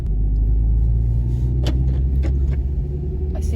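Manual car on the move during a driving lesson, with a loud, steady low engine and road rumble filling the cabin and a few faint clicks and knocks over it.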